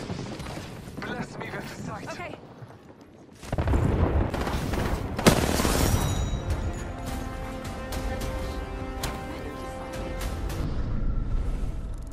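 Airstrike explosions in Apex Legends, a burst of heavy booms and crackling blasts erupting after a quieter stretch, with ringing debris and gunfire continuing afterward and voices talking over it.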